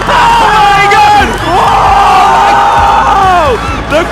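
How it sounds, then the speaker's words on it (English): A packed esports arena crowd at the Honor of Kings Championship grand final cheers, whoops and roars loudly and steadily, with excited shouting voices rising and falling throughout. "The crowd go nuts!"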